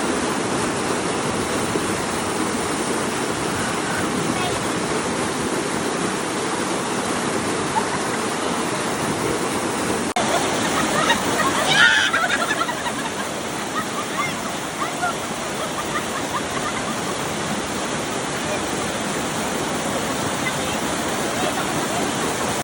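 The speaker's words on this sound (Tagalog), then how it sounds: "tingnan po natin ang malapitan yung falls na kinuna natin dati na napagkaganda" Water from Gumuhong Falls in Dolores, Quezon roars steadily, loud and constant, with a faint voice briefly heard over it.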